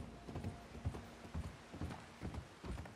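A horse's hooves gallop in the video game Red Dead Redemption 2, a quiet, steady rhythm of paired thuds and clops repeating about twice a second with faint creaking tack underneath.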